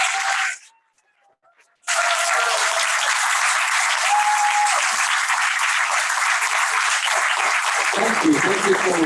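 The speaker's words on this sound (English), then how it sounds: "please give them both an amazing round of applause" An audience applauds after a poetry and music performance, a brief cut-off near the start followed by loud, sustained clapping that fills the space and continues steadily to the end.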